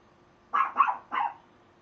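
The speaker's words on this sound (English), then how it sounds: "I got dogs are barking" Dogs bark in a home, three short muffled barks in quick succession, moderately distant, with silence before and after.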